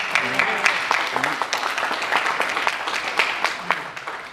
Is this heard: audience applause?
yes